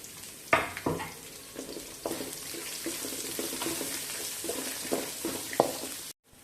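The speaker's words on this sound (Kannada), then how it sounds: "ಉಳ್ಳಾಗಡ್ಡಿ ಹಾಕಿ ಉಳ್ಳಾಗಡ್ಡಿಯನ್ನು ಫ್ರೈ ಮಾಡ್ಕೋಬೇಕು" Onions fry in a pan with a soft sizzling hiss, punctuated by several sharp scraping stirs at irregular intervals, close by and without speech.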